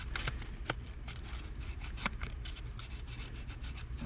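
Sandpaper rubs back and forth over a rusty engine part from a long-neglected marine flathead, a quiet, rasping scrub with a few sharper scrapes and no talking.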